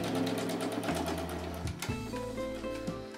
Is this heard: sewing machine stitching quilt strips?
yes